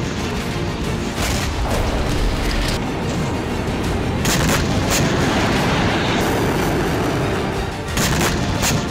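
Israeli Air Force bunker buster bomb strikes on Hamas tunnels and bunkers in Gaza, heard as a continuous dense roar of distant blasts and rumbling booms with repeated sharper bursts, loud and sustained throughout.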